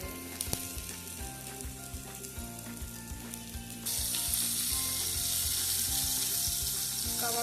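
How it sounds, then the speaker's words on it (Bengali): Chapli kababs sizzle steadily in hot oil in a pan, with a continuous close crackle that grows louder and denser partway through. There are a few light clinks and no talking. "এরপরে এগুলোকে ভেজে নেব"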